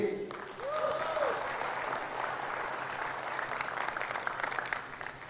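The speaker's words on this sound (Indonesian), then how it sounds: "Tepuk tangan tuh Diwe." Steady applause from an audience at a leadership training gathering, many hands clapping together in a continuous, even wash, with a brief tonal sound near the start.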